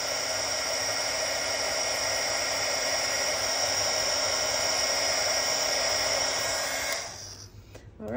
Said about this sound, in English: get your heat tool and give it just a few seconds to heat up, and then you'll see your letters turn nice and shiny